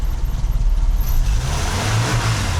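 A cold Mercedes W123 230E, its fuel distributor just repaired, revs as the throttle is pressed, giving a loud, close, throbbing rumble that swells and holds.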